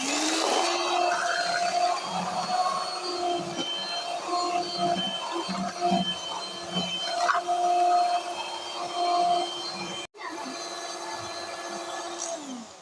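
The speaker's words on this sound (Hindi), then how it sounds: "अब ये बर्फ़ डालने के बाद 1 मिनट के लिए हम और ग्राइंड करेंगे।" Electric grinder whirring steadily while blending cream with ice to churn homemade butter for desi ghee, a continuous close motor drone that cuts out briefly near the end before resuming.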